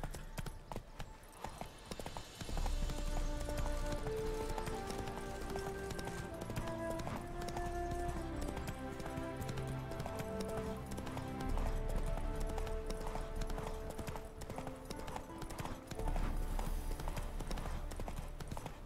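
Horse hooves galloping at a steady clip-clop rhythm in the video game The Witcher 3, continuous and fairly faint, with in-game music tones and a little talk over it.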